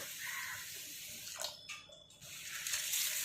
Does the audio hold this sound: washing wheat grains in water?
yes